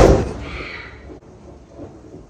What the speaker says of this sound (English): That, sorry guys, that was lightning